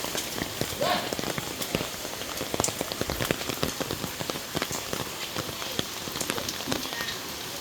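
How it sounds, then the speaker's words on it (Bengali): A downpour drums continuously on nearby surfaces, with frequent louder drips and splashes standing out against the steady wash of rain. "বন্ধুরা বৃষ্টি তো থামতেছেই না।"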